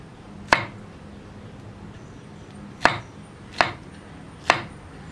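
A knife chops pineapple on a board in four sharp, separate strikes, spaced unevenly over a low background hiss, with no talk.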